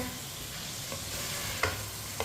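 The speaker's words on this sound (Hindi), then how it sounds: "अब इसे 2-3 मिनट के लिए ऐसे ही चम्मच चलाते हुए पका लेंगे।" A spoon stirs pieces of meat cooking in a pot for a quick gosht curry made without a pressure cooker. It is a faint, steady scraping and sizzling with two small clinks near the end.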